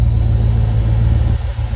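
A 1966 Mustang convertible with a 289 V8 idles with its air conditioning on, a close, steady low rumble that briefly dips and bogs as the compressor load engages.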